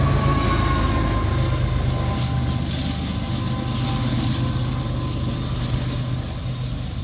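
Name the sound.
Union Pacific freight train passing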